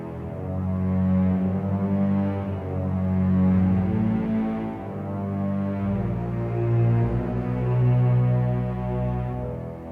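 Low orchestral strings, cellos and basses, layered with a softly controlled trombone, sustaining a steady, warm low hum of swelling chords without any voices.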